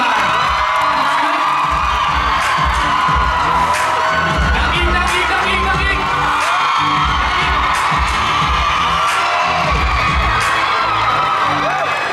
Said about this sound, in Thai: ส่งเสียงกรี๊ดดังๆต้อนรับผู้บริหารระดับสูงเราด้วยนะครับ